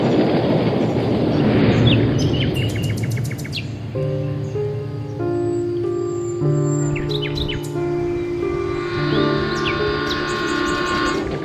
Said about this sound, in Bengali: সেদিন বিকেলে যখন ট্রেনে চেপে বসলাম